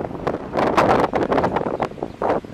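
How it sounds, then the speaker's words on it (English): Strong wind gusts buffet the microphone outdoors on Hven island, loud uneven rumbling blasts that swell and fade in quick succession with no talking. "It's windy here."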